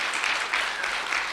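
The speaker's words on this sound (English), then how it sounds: "Can we get a round of applause for this amazing panel?" Conference audience applauding a panel, a brief dense wash of clapping with slight swells, fairly close and without speech over it.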